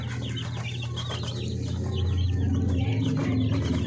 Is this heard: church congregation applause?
no